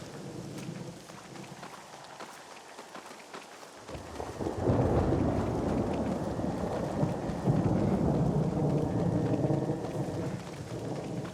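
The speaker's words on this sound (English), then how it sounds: "Man, the thunder's so good." A thunderstorm in the Red Dead Redemption game: a deep rolling thunder swell builds after a few seconds into heavy, steady rain with sustained low rumbling, loud and enveloping throughout.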